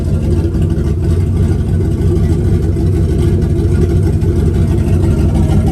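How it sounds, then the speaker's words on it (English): Rough, loud engine drone from an old turbo Chevrolet Silverado pickup that is misfiring and has lost its muffler, a steady low uneven rumble that holds continuously and close throughout without pause. "from the looks of it, it just looks like it's misfiring and the muffler fucking fell off"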